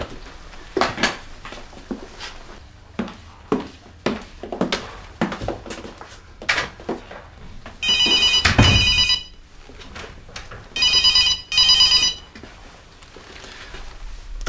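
Telephone ringing in an office setting in a Catalan TV drama, two sharp bursts of electronic trilling separated by a pause, preceded by scattered clicks and knocks nearby.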